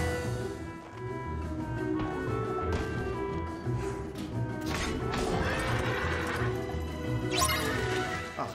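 A horse neighs in the Kingdom Hearts III video game amid a busy battle soundtrack of crashes, thumps and music, the whinny rising loud near the end.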